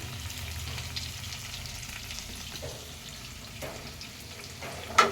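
Eggs and drumsticks frying in oil over medium heat, a faint, soft, even sizzle with light occasional clinks, close by and without speech.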